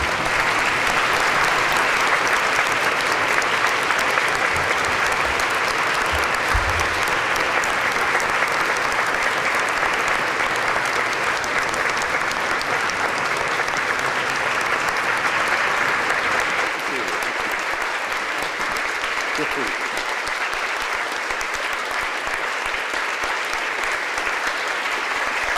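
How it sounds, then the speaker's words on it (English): An audience at a lecture gives sustained applause to welcome an ambassador, dense clapping that runs loud and unbroken for the whole stretch, thinning slightly toward the end. "I would like to ask the audience to rise and give him a round of applause in order to welcome him."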